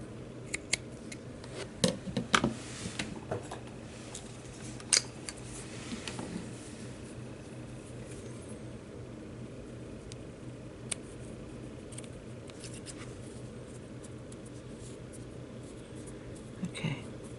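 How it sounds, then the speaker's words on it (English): Scissors snip through thread on a handmade tassel angel ornament, giving several quiet, crisp clicks at irregular intervals, bunched near the start and again near the end, over a soft hum. "now I'm going to snip this off"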